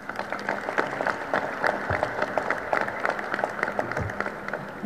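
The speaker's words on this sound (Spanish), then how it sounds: "démosle un fuerte aplauso al diputado Ernesto Vargas Contreras" An audience at a sports commission event applauds a congressman. The strong, steady clapping is crisp and rhythmic, with a few distinct sharp claps standing out, and it continues unbroken throughout.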